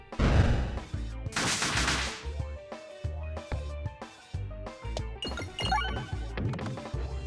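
A series of sharp, punchy bomb blasts go off in a video game, mixed with clinks and bright musical tones over a steady game soundtrack, with no one talking.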